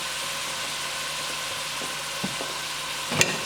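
Food sautéing in a little oil in a pan for a fish stew, a steady broadband sizzle throughout with a couple of faint utensil clicks and a brief louder scrape near the end, no voices.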